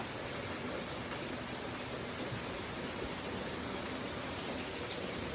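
Sparge water running in an Anvil Foundry home brewing system, a faint steady trickling and splashing hiss continuing evenly throughout, no voices.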